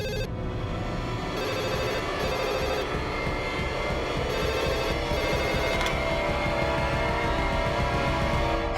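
A telephone bell rings steadily and loudly throughout, set against dense background music in a tense household drama scene.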